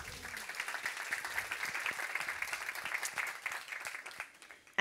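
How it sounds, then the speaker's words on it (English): Moderate applause from an audience at a panel discussion on fossil-free electrification, a fairly quiet, steady patter of clapping from across the room that lasts several seconds before tapering off. "An applause for Emma."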